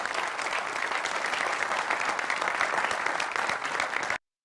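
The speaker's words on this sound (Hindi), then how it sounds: "तालियों के साथ आप सभी का बहुत बहुत स्वागत है।" A studio audience applauds to welcome guests on a political talk show, dense continuous clapping close and loud, ending abruptly.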